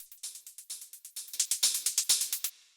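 Techno hi-hats without the drum bus glue: a fast, steady train of crisp, bright metallic ticks, growing slightly louder and more sizzling midway, then stopping abruptly with a short tail.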